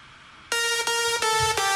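Layered mono synth leads for progressive house play together as one bright, thick lead, a short phrase of four punchy notes in quick rhythm, loud and alone.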